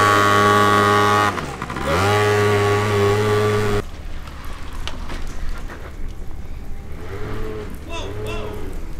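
A pit bike engine fires up from cold, a steady harmonic drone at idle that dips briefly around the second second, then drops to a quieter low run with a couple of rising revs near the end.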